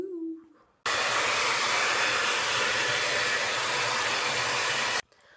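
A handheld hair dryer blows loud and steady for about four seconds, switched on abruptly and cut off just as suddenly, used to dry freshly washed hair before dyeing it, with a short quieter stretch before and after.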